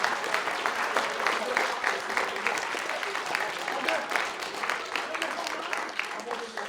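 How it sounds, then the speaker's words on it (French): An audience at a public speaking contest applauds itself, a sustained moderate clapping from a seated crowd that holds evenly from start to finish. "Applaudissez-vous"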